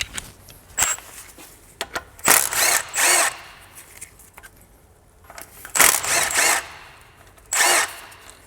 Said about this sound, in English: I am going to remove my speed sensor over here